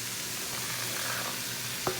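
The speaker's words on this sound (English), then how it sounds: "It's got this flat side, so I can really scrape the eggs off the bottom here." Eggs frying in a pan for quinoa fried rice with shrimp, a constant loud sizzle ending in a single scrape of a teak wooden spoon.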